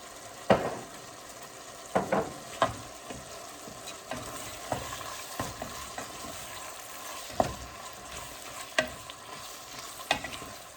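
Ground beef for chili browns in a pan with a soft continuous sizzle, punctuated by sharp scrapes and clacks of a utensil stirring against the pan at irregular intervals.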